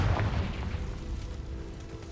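A Confringo blasting spell goes off in Hogwarts Legacy, a deep rumbling boom with a sharp onset that rolls and decays into a dense, fading roar.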